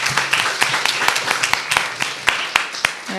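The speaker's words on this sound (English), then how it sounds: "Please give a round of applause to everybody." An audience claps at the close of a forest ecology conference session, a dense, steady round of applause with sharp individual claps standing out from close by throughout.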